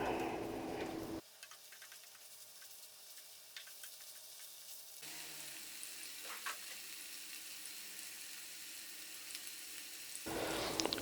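Chicken sautéed with onion and ginger-garlic paste sizzles faintly in a pan, with scattered light stirring ticks, the hiss dropping low for a few seconds then returning fuller and brighter.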